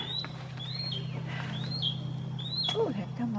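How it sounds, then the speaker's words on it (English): A red cardinal whistles a series of clear, rising-and-falling chirps outdoors in a Georgia garden, several distinct calls spaced over a steady low hum, moderately close, with faint human sounds near the end. "here come a red bird"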